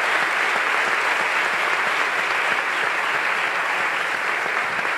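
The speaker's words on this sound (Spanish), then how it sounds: "Fuerte ese aplauso para el Señor." A congregation of women at a church gathering applauds for the Lord with strong, sustained clapping. The sound is thick and even from start to finish, with no speech over it.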